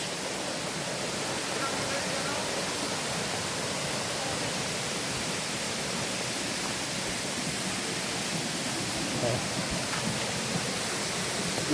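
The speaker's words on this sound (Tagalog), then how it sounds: "ganda ganda ng falls" Begaho Falls in San Vicente roars as a dense, constant rush of falling water, loud and close, filling the whole scene without a break.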